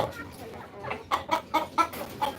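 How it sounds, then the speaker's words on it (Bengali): Native Bangladeshi hens on a small family farm, clucking in short bursts that cluster toward the end, close by and fairly quiet. "এটা হচ্ছে যে ওর মুরগির দেশি মুরগির খামার ছোটোখাটো একটা খামার"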